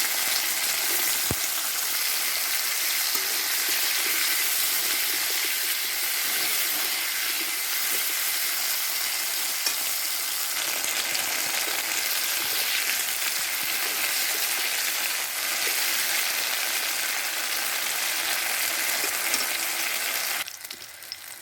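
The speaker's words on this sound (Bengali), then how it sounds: "তেল গরম হয়ে গেছে। আমি এখন শিমগুলো ছেড়ে দেব।" Green beans fry in hot oil in a wok, giving a loud, steady, close sizzle that runs unbroken with no talk.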